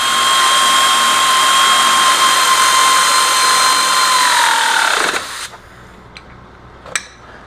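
A power tool snugs up nuts on ATV rear control arms, giving a steady, loud high whine for about five seconds that winds down and stops, followed by a few faint clicks.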